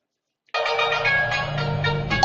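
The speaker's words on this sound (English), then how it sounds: "Your phone ringing." A phone ringtone starts suddenly after half a second of silence and keeps ringing loud and steady, with a bright repeating electronic melody that carries sustained tonal notes. No one speaks over it.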